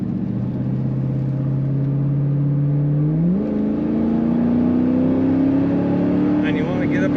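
A 2002 Chevrolet Camaro SS convertible's V8 drones steadily, then shifts up and climbs in pitch as it accelerates, loud and close throughout.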